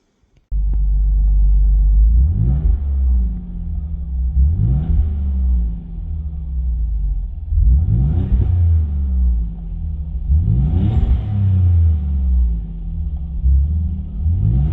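A car engine revs hard in a series of about four loud, deep throttle blips, each rising and falling over a rumbling idle, heard up close with no talk.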